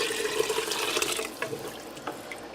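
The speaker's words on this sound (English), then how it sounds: "I'm going to go ahead and add in 4 cups of water." Four cups of water pour steadily into a pressure cooker over frying onions and beef, a close, continuous splashing stream that eases off midway before a few final splashes.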